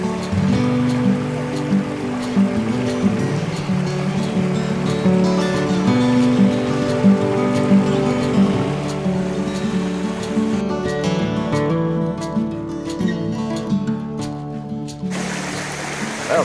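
Creek water flows steadily and fairly loud throughout, a continuous broad rushing and babbling close by, with no voices.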